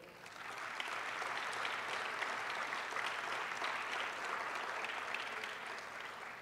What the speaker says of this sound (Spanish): Nuevamente un aplauso, por favor.